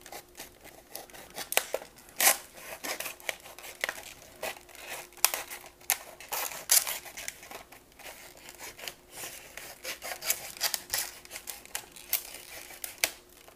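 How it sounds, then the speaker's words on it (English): A knife cutting open a cardboard package for a Millennium Falcon model kit, with sharp scraping slices and crinkling plastic in quick irregular bursts, close and fairly quiet, without talk. "I'm going to cut this open, being careful not to chop my fingers off or anything"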